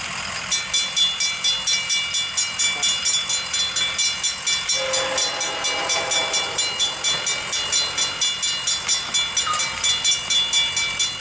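A CSX freight train led by BNSF locomotives rolls steadily past on the Mohawk Subdivision, its wheels clacking in a regular rhythm over the rail joints, with a brief squeal partway through.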